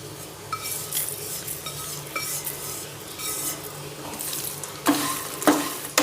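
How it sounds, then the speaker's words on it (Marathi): Roasted peanuts, cashews, almonds, coconut, seeds and makhana are mixed in a pan for a fasting snack, giving soft scraping and rustling under a steady background hiss, with a few sharper clinks of a spoon against the pan near the end. "याला चांगलं मिक्स करू आता छान मिक्स करून घेऊ"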